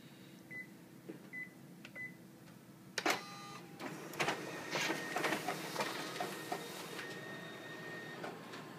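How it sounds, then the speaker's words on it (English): A Konica Bizhub C203 office copier feeds originals through its document feeder, giving a steady mechanical whir with rapid clicking and rustling sheets that starts after a few soft beeps and runs continuously, close by. "We're going to run through the document feeder, verify that functions well."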